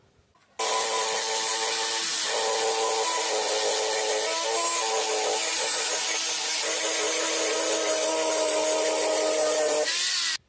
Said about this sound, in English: I'm going to go at this again and grind this all back down to bare metal.